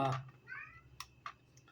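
A cat meows in a short rising-falling call, with faint clicks and a brief voice at the start, close and fairly quiet.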